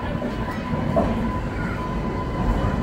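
An Indian Railways train hauled by a WAP-7 electric locomotive rumbles past, producing a steady, loud, continuous roar of rolling wheels and rail noise throughout with no speech.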